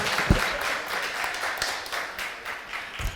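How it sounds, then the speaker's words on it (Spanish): Applause from a conference audience welcoming a speaker from the Topo Siglo XXI team, moderate clapping heard at some distance, fairly even over a few seconds. "vamos a recibir con un fuerte aplauso a Guillermo Coll del equipo de Topo Siglo XXI"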